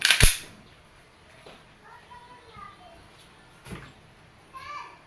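A WE Glock 18C airsoft pistol fires on semi-automatic: a loud, sharp crack, then two more snaps spaced a few seconds apart, with faint voices between shots.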